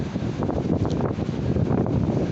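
Strong wind buffeting the microphone on a beach in Vlorë, Albania, a loud, continuous rumbling roar with gusty surges throughout and no talk.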